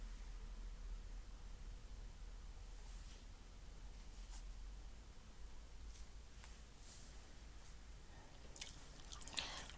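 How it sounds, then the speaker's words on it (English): Gum is chewed close to the microphone, making soft, irregular wet clicks and smacks over a low, steady background hiss. The sounds are faint and unhurried, growing slightly busier near the end, with no talking. "I'm just chewing this gum."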